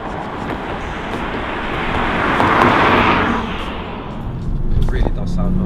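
Road noise inside a BMW M235i with a manual gearbox: a steady broadband rumble and tire roar that swells in the middle and again near the end.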